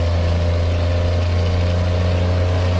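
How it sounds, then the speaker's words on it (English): Cummins M11 diesel of about 535 horsepower in a Peterbilt 379 truck, paired with an Eaton Super 13 transmission in American Truck Simulator, running with a steady, loud low drone and no talking. "Oh, M11 sounds pretty damn good."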